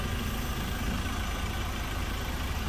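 Ford Ranger XLS with a 2.2 diesel engine running at idle, a steady, even low rumble held close and alone with no talk.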